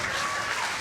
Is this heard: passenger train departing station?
no